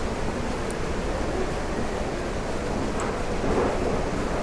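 A steady, dense roar of rain and rumbling thunder from a video game thunderstorm in Legend of Khiimori fills the whole stretch without a break, loud and continuous.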